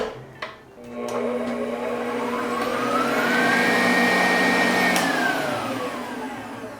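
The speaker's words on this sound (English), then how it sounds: "That's gonna go in our stand mixer. And it says beat eggs until foamy." A stand mixer whips four egg whites until foamy, a loud steady motor whine that rises in pitch as it speeds up and then slowly winds down, close and alone.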